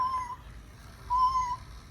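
A toy cat gives two electronic meows, a short one and then a longer one after a brief pause, close and clear over a quiet room, with no talking.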